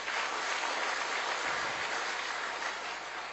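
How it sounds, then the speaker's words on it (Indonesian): A large audience at a business seminar applauds steadily as a dense, continuous wash of clapping, moderately loud and unbroken, with no voices over it. "Tepuk tangan buat pendidikan Diamond IT."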